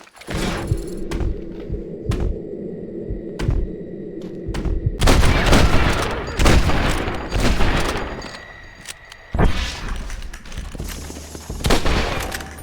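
Gunshots ring out in a Red Dead Redemption shooting contest, sharp cracks fired in rapid bursts with a dense volley in the middle, loud and close over a quieter ambient bed.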